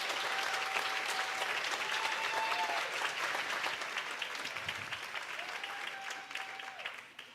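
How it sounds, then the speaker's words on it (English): Sustained audience applause at the St. Anne's 2021 fundraiser, a Havana-themed night, steady clapping from a crowd that holds for several seconds before gradually thinning out, with faint background tones underneath. "big round of applause"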